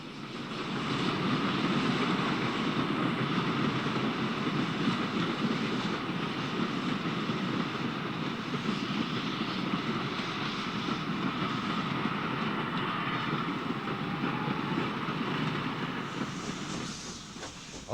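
A northbound steam-hauled local from Templecombe to Bath drops down the spur past Templecombe No. 2 junction box on the Somerset & Dorset line, a steady broad rumble that holds loud for the whole pass before easing at the end.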